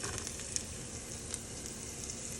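Garlic and ginger frying in coconut oil over medium-low heat, a steady soft sizzle with faint crackles and a couple of small pops, no voices.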